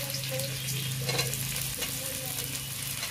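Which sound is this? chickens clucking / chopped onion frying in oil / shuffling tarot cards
chopped onion frying in oil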